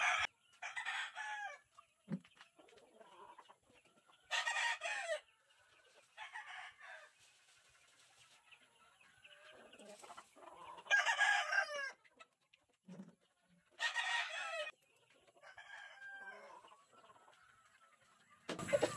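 A fighting cock rooster crows in several bursts and clucks between them, fairly close, with quiet gaps between calls and no talk.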